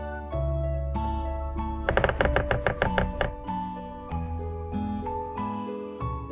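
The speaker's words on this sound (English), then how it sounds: "Woodpecker." A woodpecker drums a rapid burst of sharp taps lasting about a second and a half, set against steady background music, with no talking.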